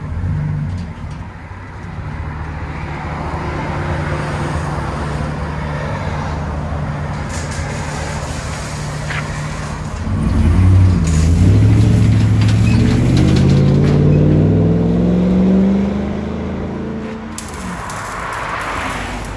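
A 2012 Chevy Avalanche 5.3-liter V8 with factory converters idles with a low exhaust rumble, then revs up loudly to a rising roar before falling back to idle, heard close and without talk.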